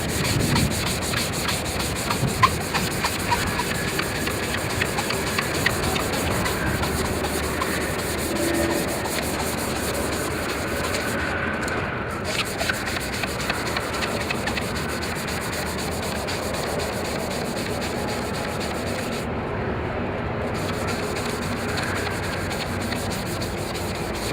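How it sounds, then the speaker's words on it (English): A hand sanding block scrubs away a UV-deteriorated surface, a continuous, close, even rasping rub with steady back-and-forth strokes and no voices. "what's left of this UV ray deterioration, with this sanding block."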